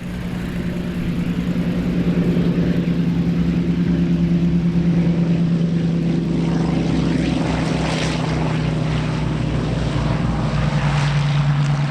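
A C-123K Provider twin propeller transport plane drones loudly and steadily at AirVenture Oshkosh, a deep sustained engine and airscrew roar with no talking.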